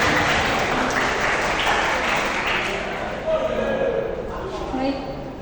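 Audience applause fills a school workshop hall after a speech, a dense, loud wash of clapping that carries steadily throughout and eases slightly toward the end.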